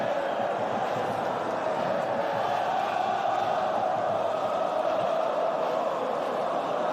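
A packed crowd of 25,000 at Al-Awwal Park before kick-off in the Al Nassr vs Al Hilal derby, with a steady, dense murmur of voices that holds evenly throughout.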